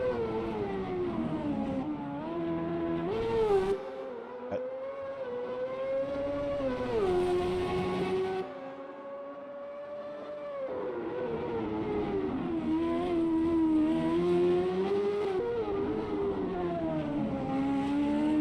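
A race car on a timed lap in the AMS2 racing game, CART 1998 open-wheel style, engine note rising and falling through gear changes and corners, loud and continuous with no talk.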